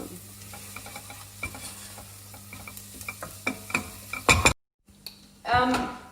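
Chilli and curry leaves drop into a hot pan, with quiet stirring clicks and light scraping, then a loud burst of sizzling and spitting, a brief silence, and a renewed, close hiss of frying.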